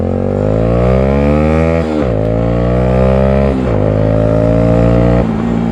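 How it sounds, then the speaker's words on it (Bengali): A Bajaj Pulsar motorcycle revs hard up close, its engine note climbing and dropping in waves, with sharp exhaust pops cracking out at the breaks between revs. "ও গাইজ ব্যাক ফায়ার মারছে দেখো একবার।"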